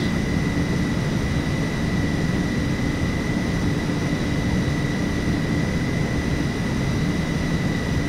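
Boeing 727-200 jet engines in the FSX flight simulator game roar steadily at high thrust with a constant whine, loud and unbroken, with no voices.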